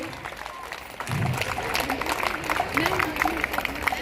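An audience at a DAV School guest-welcome event breaks into applause, a steady crackle of many hands clapping that swells after a quieter opening, mixed with a murmur of voices.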